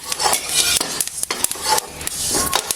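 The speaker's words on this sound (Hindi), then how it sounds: "इसे हमें धीमी आंच पे भूनना है जब चटपट वाली आवाज़ आनी चाहिए।" Flaxseeds dry-roasting in a wok over low heat while being stirred: continuous scraping and crackling with irregular metallic clinks of the spoon against the pan, close and fairly loud.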